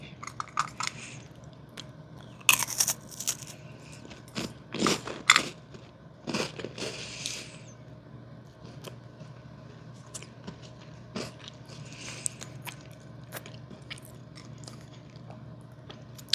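Crunchy cookie being bitten and chewed close up, with loud crisp crunches in bursts early on, then softer, quieter chewing that continues without talk.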